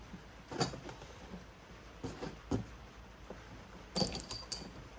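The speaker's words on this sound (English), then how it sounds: "There's a tiny little wheel on there that'll cut this alloy really easy." A tubing cutter's small wheel is turned around an alloy tube, making faint, intermittent metallic scraping clicks in short bursts with quiet gaps between them.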